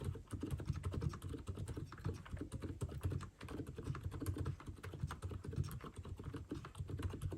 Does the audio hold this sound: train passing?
no